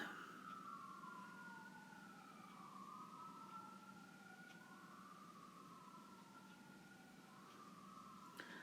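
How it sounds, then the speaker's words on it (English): Distant wailing ambulance and fire engine sirens rise and fall continuously, overlapping one another, heard faintly over a steady background hum with no talking. "the ambulances and the fire engines."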